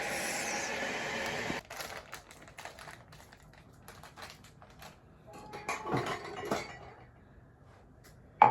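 A spoon clinks against a cup while powdered milk is stirred into hot water in a home kitchen, giving a run of light, irregular ticks and taps at close range with no talking.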